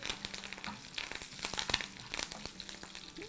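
Curry leaves crackle and sizzle in hot oil for a tempering, a dense, fairly close frying hiss with sharp pops throughout and no talking.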